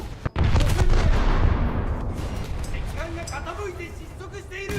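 Warship secondary guns boom in a naval combat game, with one sharp blast at the start followed by a loud, sustained rumble and rolling explosions. A voice talks over the din.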